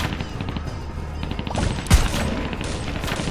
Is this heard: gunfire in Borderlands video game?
yes